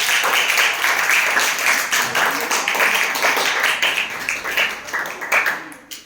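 Loud, continuous clapping fills a school assembly, a dense steady patter of many hands that thins slightly toward the end.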